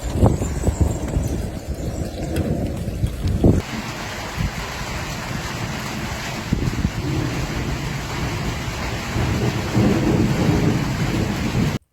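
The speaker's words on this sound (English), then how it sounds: "a wild thunderstorm hit the city" Wild thunderstorm over Sydney with flash flooding: a deep rumble of thunder up front, then loud, steady heavy rain and wind roaring continuously without a break.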